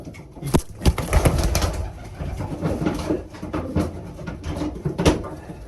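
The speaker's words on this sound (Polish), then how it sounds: "No tutaj to chyba też jeden z ładniejszych gołębi." Tiger pigeons, several young males, coo in a loft, a steady overlapping murmur of low calls with a few sharper knocks and wing or perch sounds close by.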